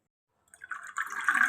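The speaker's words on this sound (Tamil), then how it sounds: "கண்டிப்பாக வந்து இதில் இன்னும் கொஞ்சம் தண்ணி கலக்கணும்" Water trickles and drips into a container of lemon juice mixed with salt, a soft, close pouring sound that begins after a brief silence and builds steadily.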